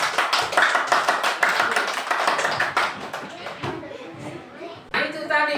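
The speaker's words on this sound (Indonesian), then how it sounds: "Tepuk tangan untuk kelompok 1." A primary school class applauding, a burst of many small hands clapping at once, loud and close, mixed with children's voices and chatter before fading and a final thump.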